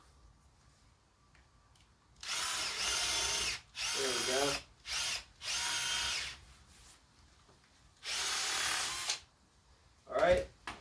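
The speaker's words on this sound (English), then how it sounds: "Just take a 1/2-inch drill bit. I'm going to re-drill mine, make it a little bit bigger." An electric drill bores a drain hole with a 1/2-inch bit, enlarging an existing hole in a truck cap camper. It runs in several loud bursts with short pauses between them, and a voice speaks briefly near the end.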